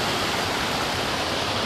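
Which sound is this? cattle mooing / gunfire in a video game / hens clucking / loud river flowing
loud river flowing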